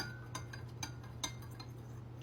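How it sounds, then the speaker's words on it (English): A utensil stirs sugar into water in a bowl, giving light clinks and scrapes at irregular intervals over a low steady hum, close and quiet with no speech. "And I'm going to mix it so that it dissolves."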